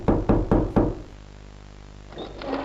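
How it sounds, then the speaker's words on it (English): Four loud, evenly spaced knocks on a door in the Poppy Playtime Chapter 3 horror game, booming and close, then a quiet pause with a faint tonal creak near the end. "the sound effect for that knock actually makes you think it's inside your house"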